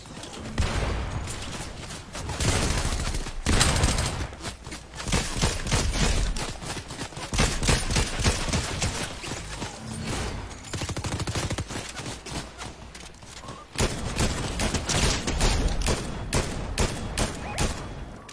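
Dense automatic gunfire from a multiplayer shooter game, long continuous bursts and rapid volleys with only a couple of short pauses, loud and close throughout.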